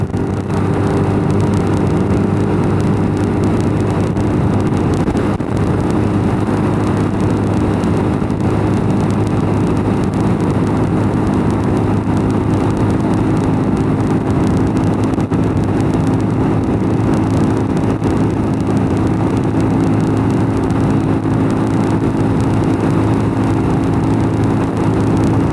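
A motorcycle rides along a road, with a continuous loud engine drone and rushing noise that hold steady throughout and no talk.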